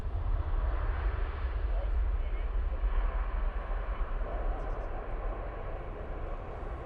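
Airliner taking off at Manchester Airport bound for Faro, a steady broad engine roar with heavy low rumble held throughout, fairly distant and unchanging.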